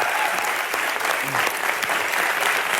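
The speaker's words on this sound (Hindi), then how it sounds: "जोरदार तालियां बनती हैं सर।" A studio audience at a comedy talk show applauds loudly and steadily throughout, dense overlapping clapping with a faint voice briefly showing through the middle.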